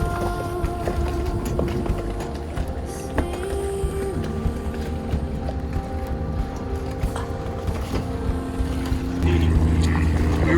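A dinghy outboard motor runs on the water, a steady close engine drone with hum and wind buffeting, growing slightly louder near the end.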